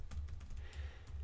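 Someone types a chat message on a computer keyboard: a quick, close run of light plastic key clicks with short irregular gaps and no voices.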